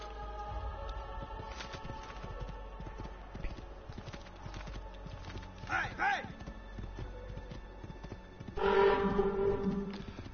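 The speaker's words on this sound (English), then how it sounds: "Ezio, get on the damn horse!" Horse hooves clip-clop in an Assassin's Creed video game, a steady run of hoof beats heard among game sounds, with a horse's whinny or snort partway through.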